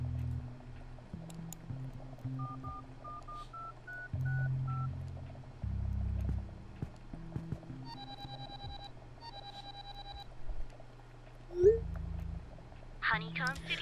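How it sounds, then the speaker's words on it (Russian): A telephone is dialed in the video game Mutropolis, with a run of short beeping keypad tones in quick sequence, followed by a few more tone bursts. A low hum plays underneath, and a voice speaks now and then. "Нам нужна помощь, я звоню охранокопам."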